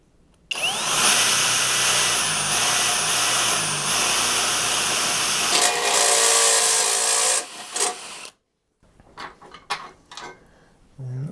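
A drill bores through the steel cross member of a Jeep TJ during a tire carrier bumper install: a loud, steady whirring grind for about seven seconds, then short bursts and clanks after a pause.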